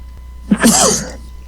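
A single sharp sneeze bursts out close by at a tabletop role-playing game session, a quick intake followed by a loud explosive release that fades within a second.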